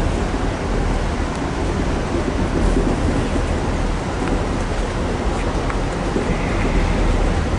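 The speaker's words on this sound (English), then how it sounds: "You can see a storm's brewing way over there." Thunderstorm noise on a road trip toward Oregon, heard as a constant loud, dense rumble with a wash like rain or wind, steady throughout with no talking.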